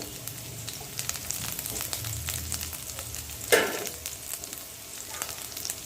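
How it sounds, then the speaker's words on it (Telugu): Garlic pieces frying in a pan with a steady close sizzle, plus a brief louder burst of crackle midway as something stirs or drops in; no talking. "ఇప్పుడు వెల్లుల్లి ముక్కలను కూడా వేసుకుంటాం"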